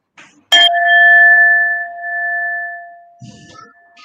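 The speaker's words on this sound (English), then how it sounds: "just listen to the sound of the bell" A mindfulness bell is struck once and rings out as a single clear, sustained tone that slowly fades over several seconds, with a soft rustle near the end.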